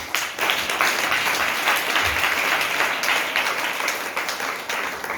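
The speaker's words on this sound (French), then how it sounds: "Acclame le Seigneur." A church congregation bursts into loud, sustained applause, many hands clapping together in a dense, continuous wash that fills the room.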